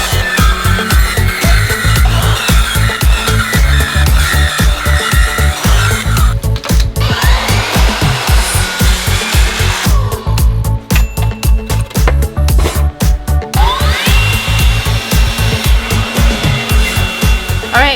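A power saw cuts a wooden shelf board slightly long, running loud and continuous at close range with its pitch shifting as the blade works through the wood.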